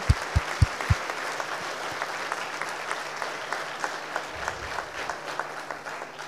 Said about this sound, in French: je voudrais qu'on les applaudisse parce que bravo vraiment pour tout votre investissement